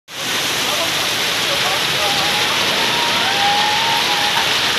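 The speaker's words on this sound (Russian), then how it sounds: "Вот ливень сзади меня пошел." Heavy rain pours down outdoors in a steady, dense hiss that starts abruptly and holds loud and even throughout.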